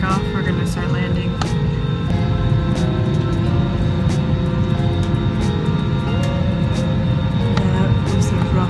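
Steady, loud engine drone fills a cabin on a short, rough commercial flight, with occasional clunks and rattles and people talking faintly underneath.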